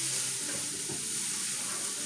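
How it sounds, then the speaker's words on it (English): Meat and garlic cauliflower rice sizzle steadily in a pan, a dense, continuous frying hiss with no talking. "So our meats are cooking. That cauliflower rice is pretty much done."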